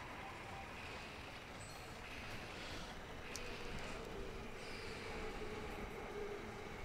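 A video game train rumbles along with a steady low roar and faint metallic squeals, quiet and continuous throughout.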